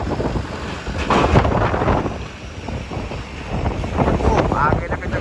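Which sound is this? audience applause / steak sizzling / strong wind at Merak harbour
strong wind at Merak harbour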